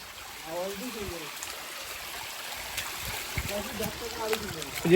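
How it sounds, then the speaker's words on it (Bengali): A forest stream flowing along the trail toward the Ruposhi waterfall, a steady, moderate rush of running water, with people talking over it at the start and end. "এখান থেকেই আমরা ঝর্ণার পানির শব্দ শুনতে পাই"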